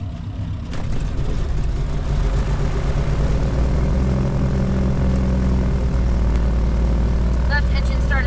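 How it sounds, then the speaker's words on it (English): The left engine of a personal propeller airplane cranks and fires, then settles into a steady loud propeller drone that holds for several seconds, close and constant, with a faint higher whine near the end. "Left engine started out wonderfully."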